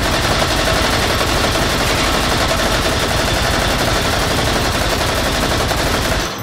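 Sustained, dense automatic fire from an RPK light machine gun in H3VR, a continuous loud burst running nearly the whole time before cutting off abruptly at the end, with no talking.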